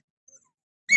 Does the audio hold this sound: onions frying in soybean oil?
no